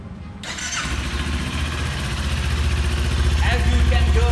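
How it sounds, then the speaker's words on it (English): A Kawasaki Ninja 400 motorcycle engine cranks and fires up, settling into a steady, throbbing idle with a deep exhaust rumble, close by. "let us give you the exhaust note of this motorcycle"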